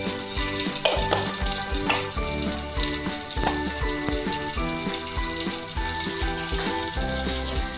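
Mustard seeds crackle and sizzle in hot coconut oil in a pan, a steady close frying hiss peppered with small pops, set against background music.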